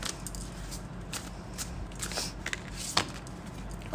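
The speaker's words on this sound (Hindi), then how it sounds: "Now I am going to take out the cards for all 3 piles" Tarot cards are shuffled close by, giving a soft, continuous riffling and sliding with a few crisper snaps. No one speaks over it.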